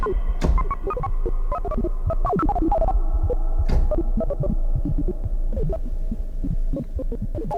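A Kodamo Mask1 synthesizer plays a run of notes in a low register over a constant hum, the tone bubbling and shifting as a filter sweeps.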